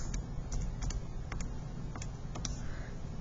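Keys on a calculator keypad tapped in a quick irregular series of light clicks, close and fairly soft over a steady background hiss.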